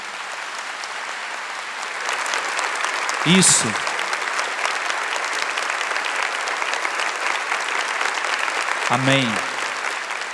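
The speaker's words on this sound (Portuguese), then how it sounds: "aplaudisse todos os padres do nosso Brasil" A church congregation applauds the priests of Brazil with sustained, even clapping that fills the hall, while a voice speaks briefly twice over it.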